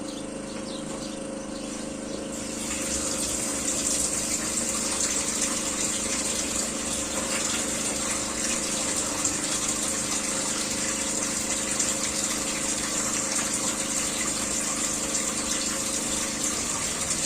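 A water pump powered by a Grad 5710935 3 kW generator hums steadily while water gushes and rushes continuously, rising in strength after the first couple of seconds and holding steady.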